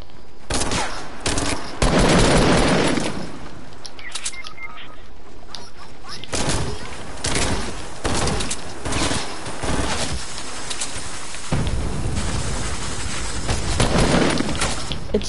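Rapid automatic assault rifle fire from a video game crackles in repeated loud bursts, with booms and chaotic battle noise filling the whole stretch and a player's voice breaking in briefly.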